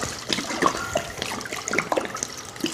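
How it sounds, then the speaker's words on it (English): Water is poured from a tap or jug over dried wild black seaweed, giving a steady trickling, splashing flow with scattered small drips, close by, with no talking. "A little water."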